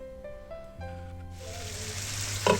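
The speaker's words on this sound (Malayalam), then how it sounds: "അപ്പോൾ ആ ഒരു ടൈം വരെ തിരിച്ചു മറിച്ചിട്ടൊന്ന് ഗ്രില്ല് ചെയ്തെടുക്കുക" Chicken wrapped in banana leaf sizzles on a charcoal grill, and a hiss of moderate loudness builds up under a faint background tone. It ends with a brief louder crackle, and no one speaks.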